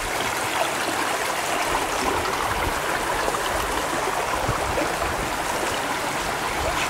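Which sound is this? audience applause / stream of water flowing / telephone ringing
stream of water flowing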